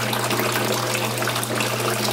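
Water rushes and gushes steadily through a loop siphon in an aquaponics grow bed in a New York City apartment. The flow is loud and close, with a constant low hum underneath.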